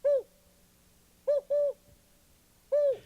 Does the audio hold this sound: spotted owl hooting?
yes